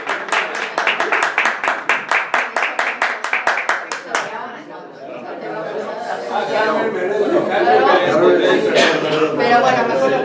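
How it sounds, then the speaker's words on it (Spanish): Audience applause at a tribute event honoring Benito Pérez Galdós, loud rhythmic clapping for about four seconds before settling into crowd chatter and a voice speaking over the room. "con un fuerte aplauso le recibimos"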